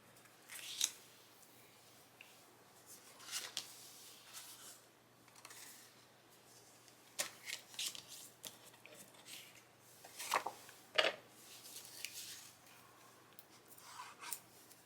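Scissors cut small pieces of designer series scrap paper, which are then moved around on handmade greeting cards. The snips and papery rustles come in soft, scattered bursts, close and quiet.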